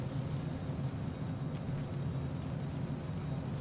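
An aircraft engine in Microsoft Flight Simulator 2024 near Wilmington, Delaware, running a little high: a constant low, even drone with a faint rumble and no clear change in pitch.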